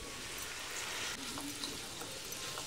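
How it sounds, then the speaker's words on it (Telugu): Onions and tomatoes with garlic paste frying in a pan, a dense, continuous quiet sizzle with faint stirring scrapes, heard alone without talking. "ఆనియన్స్ కొంచెం వేగాక టమాటోస్ వేసుకోవాలి."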